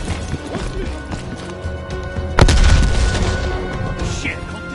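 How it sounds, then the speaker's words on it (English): A grenade goes off in a Call of Duty Black Ops Cold War campaign firefight: one sharp, heavy blast hits midway and rumbles out over gunfire and battle noise. "incoming grenade!"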